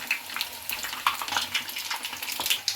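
Green chillies for mirchi bajji bubbling and crackling as they fry in hot oil, a steady close sizzle with scattered sharp pops and no talking.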